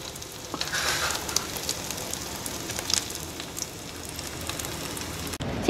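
Sausages wrapped in sticky rice deep-fry in hot oil over a low flame, giving a steady, dense sizzle and crackle with scattered sharp pops close by. No voices are heard.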